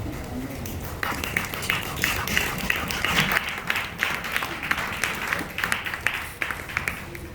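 A church congregation applauds together, a dense, steady wash of clapping with sharp individual claps standing out, loud and sustained throughout.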